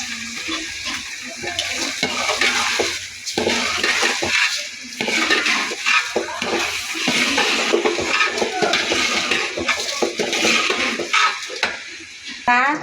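Rice being stirred and fried with ginger paste and garam masala in a pot, a steady sizzle with scraping and clinking of a spoon against metal, close and continuous, with occasional faint talk.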